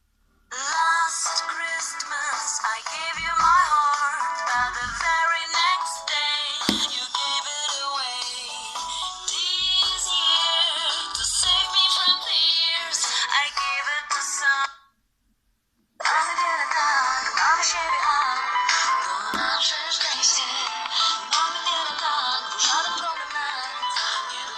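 Polyphonic ringtone melodies from a 2004 Motorola RAZR V3 mobile phone play loud and continuous, bright tonal tunes with a brief silent gap between two songs.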